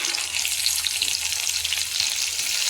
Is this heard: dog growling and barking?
no